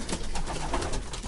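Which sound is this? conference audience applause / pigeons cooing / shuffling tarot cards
pigeons cooing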